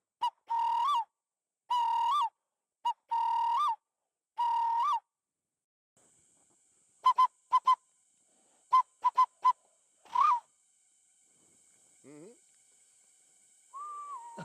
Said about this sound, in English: Loài cú rốc ở đây.